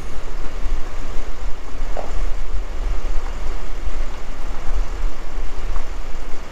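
Farm tractors, a T7 260 and a 6080 pulling a seed drill, rumble along with escort vehicles, a steady close heavy diesel drone with road noise and no pauses.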